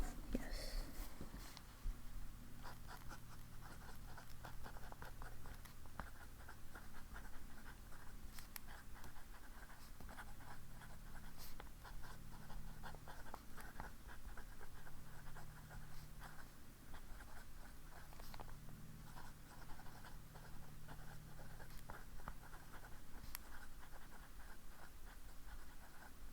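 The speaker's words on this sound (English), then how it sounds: "I should do the writing sample" A pen scratches ink across paper while a writing sample is written, a faint, steady scrape with small strokes and pauses, recorded close in a quiet room.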